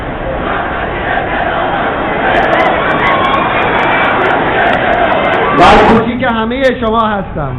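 A large crowd at a rally marking the 32nd anniversary of the Islamic Revolution chants slogans for President Ahmadinejad, a dense continuous roar of massed voices that swells and then gives way to a single voice rising near the end.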